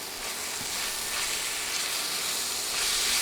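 Snake gourd cooking on low heat in a pan, stirred after the lid is lifted, gives a steady broad sizzle and steamy hiss throughout, with faint scraping stirs underneath and no voices.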